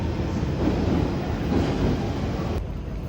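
A London Underground District line train runs along the track, a loud steady low rumble and rushing noise recorded from inside or close by, with no voices.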